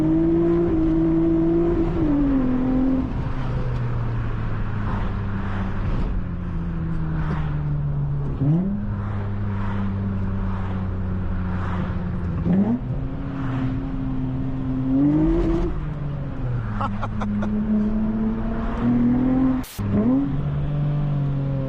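A loud 7th generation Honda Accord V6 revs hard through several rising pulls, with the pitch dropping at each gear change before it climbs again. The engine is close and dominant throughout, with no talking.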